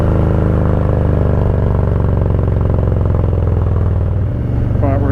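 Harley-Davidson Low Rider S motorcycle engine on the overrun, a steady loud deep rumble with rapid firing pulses and clatter throughout, a brief dip near the end as revs change.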